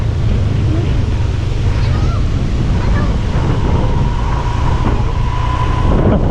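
Strong wind rushes steadily across an open rice field in the countryside, a loud, constant roar buffeting close against the microphone for the whole stretch.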